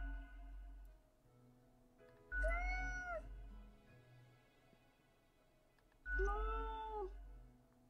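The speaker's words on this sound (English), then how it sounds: "The cat's upset." An upset cat gives two loud, drawn-out meows a few seconds apart, close by, with quiet low background hum between them.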